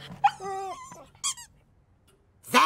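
An animated dog gives high squeaks and whimpers in short bursts, close and clear, separated by brief silences.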